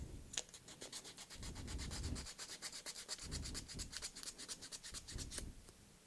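Close, brisk sanding strokes with sandpaper on a 3D-printed part, a rapid rhythmic scratching back and forth that pauses briefly and resumes.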